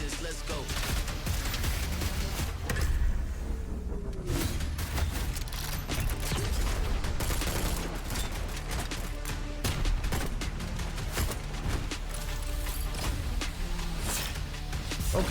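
Gunfire from the Spectre Divide video game trailer: dense rapid shots and bursts over a loud continuous mix of music and effects, steady throughout.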